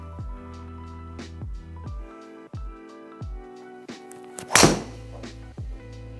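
A golf club with a Fujikura Ventus shaft strikes balls in a series of solid, hollow thunks at a steady pace, with one sharper, brighter crack in the middle, close by and with no talking.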